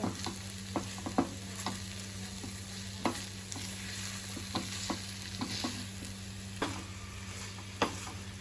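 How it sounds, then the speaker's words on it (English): Honey chilli potatoes stirred and tossed in a sizzling pan, with sharp scrapes and clinks of the spatula at irregular intervals over a constant quiet frying hiss and a steady background hum. "Now we will mix it until the potatoes also take the color."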